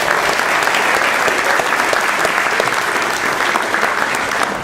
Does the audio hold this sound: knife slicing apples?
no